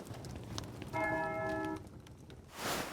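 A church bell tolls once in the medieval video game Pentiment, a ringing, sustained strike that sits moderately loud over a faint ambient background before fading.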